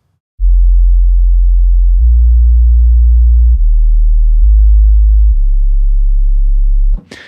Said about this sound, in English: sometimes I like to add a nice big subby underbass kind of sound